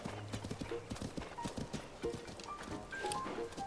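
Epona the horse galloping in the video game Zelda Tears of the Kingdom, rapid rhythmic hoofbeats with a brief whinny, close and steady.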